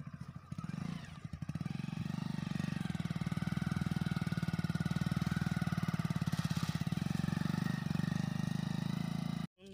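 A motorcycle engine runs steadily close by at low, even revs on a sandy riverbank, its throbbing idle continuous for most of the clip before cutting off abruptly.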